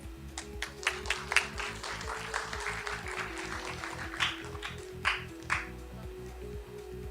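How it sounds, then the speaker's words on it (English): Scattered audience applause at a university research congress in an auditorium, sparse individual claps standing out over a low hum, with a few louder sharp claps near the end. "Another round of applause again for our first round of plenary speakers."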